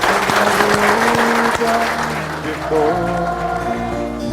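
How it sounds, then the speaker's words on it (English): A crowd bursts into applause, the clapping fading as steady music rises and carries on to the end. "let's give Lawrence a great, great round of applause."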